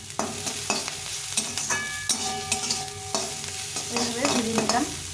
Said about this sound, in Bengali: বাঁধাকপিটা ভাজা হয়ে যাচ্ছে, দেখো সুন্দরভাবে ভেজে নিয়েছি